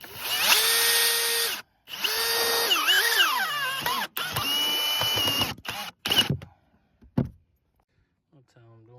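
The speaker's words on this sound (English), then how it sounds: "Screwing them in using hex heads." A power drill drives hex head screws into scrap blocks during a roofing job, with several loud, close bursts of motor whine rising and falling in pitch, separated by short pauses.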